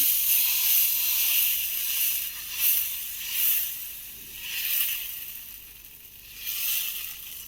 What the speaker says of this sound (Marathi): आता हे बॅटर मी यामध्ये असं टाकून छान असं पसरून घेणार आहे